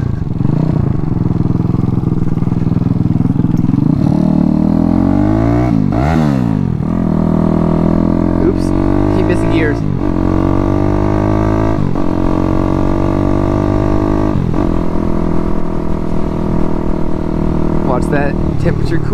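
Daytona 212cc big bore engine in a Grom clone running at low RPM, a loud steady mid-pitched drone with a brief dip and recovery partway through, continuous throughout.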